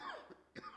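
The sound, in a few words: cough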